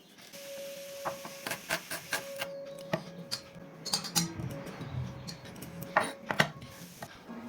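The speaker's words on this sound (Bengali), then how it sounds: "এরপর পেঁয়াজটাকে ছোট ছোট করে কেটে নিচ্ছি।" A knife chops an onion into small pieces on a board, giving a string of light, irregular taps close by in a quiet room.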